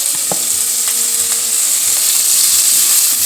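Chopped onions fry in mustard oil in a pan, a steady close sizzle with a few light clinks of stirring, and no talking.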